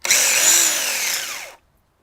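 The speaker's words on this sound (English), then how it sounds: "The chainsaw is used to put a fresh cut on the tree to make it look nice and flat on" A chainsaw makes a fresh flat cut across a Christmas tree trunk on a tree farm, a loud close whining buzz whose pitch sags as it bites into the wood, lasting about a second and a half before stopping abruptly.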